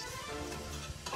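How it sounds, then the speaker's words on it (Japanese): Chopped garlic fries in hot oil in a pot, a soft, steady sizzle heard faintly and alone. "刻んだニンニクを入れて炒めてまいります。"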